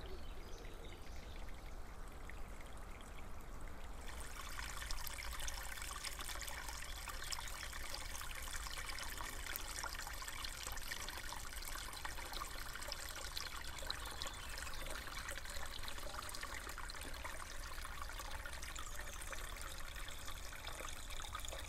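Water from an old spring beside an overgrown pond trickles and pours in a steady stream, filling the clip continuously and getting brighter and fuller after the first few seconds, with no talking over it.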